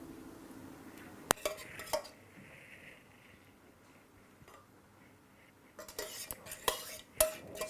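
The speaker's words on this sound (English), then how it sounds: "So we need to spread the sauce." A utensil spreading sauce over cannelloni in a dish, with soft scraping and stirring and a few sharp clinks against the dish, quiet stretches between them, and busier clatter toward the end.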